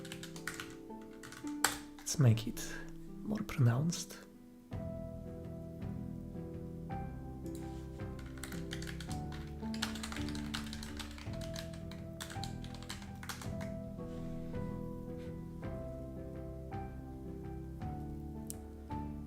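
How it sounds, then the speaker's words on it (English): Rapid computer keyboard typing taps during a live coding session, clicking steadily under a man's speech with a few louder bursts early on. "Computer keyboard."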